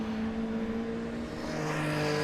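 Classic race cars lapping Knockhill circuit in Scotland, a steady droning engine note heard at a distance throughout, with no voices.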